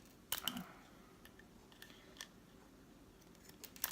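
Scissors snip through the plastic teeth of a small travel lint roller in a few faint, sharp clicks spread apart, close by, over a quiet background hiss with no talking.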